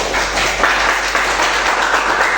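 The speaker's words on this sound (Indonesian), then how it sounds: "kalau gitu tepuk tangan untuk kita semua" A class of students claps together at the end of a computer hardware lesson, a steady wash of applause that stays fairly loud and even throughout.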